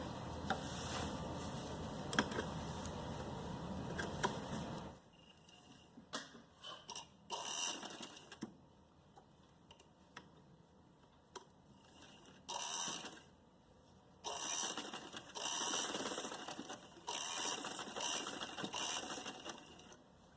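A sewing machine stitches lace onto a kurti neckline, running in a dense continuous burst at first, then in shorter start-stop runs with ticking pauses between, fairly quiet and close.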